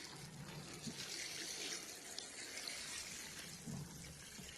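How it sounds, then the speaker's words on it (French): Water trickles and splashes steadily as it is poured onto sunflower seedlings in pots, a continuous close wash of running water with no talk. "on va faire pareil, mais on va les arroser avant"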